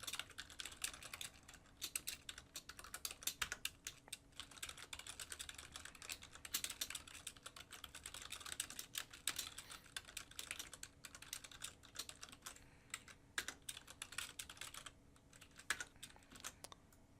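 Rapid, continuous typing on a computer keyboard while writing code, a dense run of close, crisp key clicks with brief pauses, alone without talk.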